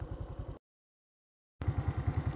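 A motorbike engine putters steadily with a low, even pulse, cuts to silence for about a second, then returns slightly louder with the same chugging rhythm.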